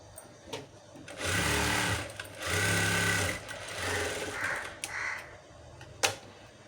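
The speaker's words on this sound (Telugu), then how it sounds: "కాబట్టి మనం ఇంకో స్టిచ్ చేసుకుందాం." Sewing machine stitching a blouse in two bursts of steady whirring, close and fairly loud, with short pauses and small clicks between runs.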